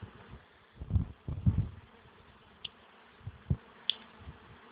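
Honeybees at an unpainted wooden beehive in an apiary hum faintly and steadily, with a few soft knocks and brief higher buzzes passing close.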